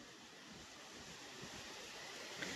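Clean river water rushing along a farm lot, a steady broad hiss of flowing current heard alone at low volume, with a slight swell near the end.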